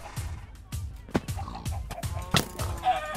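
Clucking from a Minecraft chicken repeats in a quick, steady series of short clucks, heard close and clear with little else around it.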